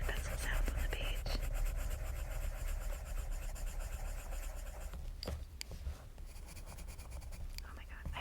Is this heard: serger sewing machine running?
no